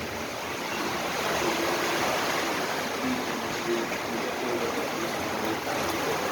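Heavy rain in a Bicol province during stormy weather, a steady dense wash of falling water pouring into a basin, continuous and fairly loud throughout with no talk.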